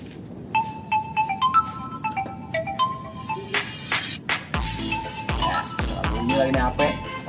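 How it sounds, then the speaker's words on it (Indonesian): A mobile phone rings with a bright, repeating electronic melody of short stepped tones, followed by thumps and background noise as the ringing continues under the clatter. "Bunyi lagi nih HP."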